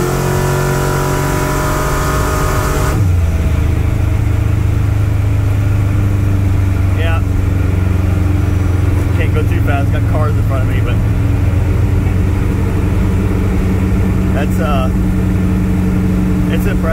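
A 1965 Dodge D100 pickup built as a pro street truck pulls hard in third gear, the loud engine drone rising steadily in pitch inside the cab as it accelerates.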